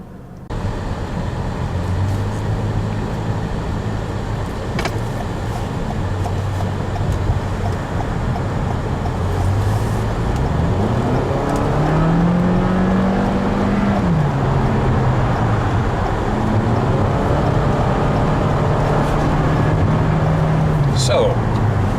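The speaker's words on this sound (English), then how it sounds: "So, how does the Camry handle expressway acceleration?" A 2018 Toyota Camry XLE accelerates on an expressway, heard from inside the cabin: steady road and engine drone with a tone that climbs and shifts as speed builds, continuous and fairly loud throughout.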